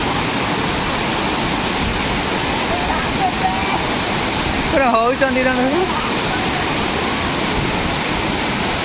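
Steady broadband rush of a waterfall at a village site in Odisha, loud and continuous throughout, with a voice talking over it and a brief tonal chirp near the middle.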